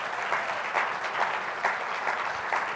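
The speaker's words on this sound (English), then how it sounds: "Give them a round of applause." A live-event audience claps steadily for a couple of seconds, a dense, even patter of many hands in a room with no voices over it.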